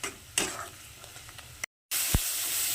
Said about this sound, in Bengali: এবার মশলাটাকে একটু ভালো করে ভেজে নেব।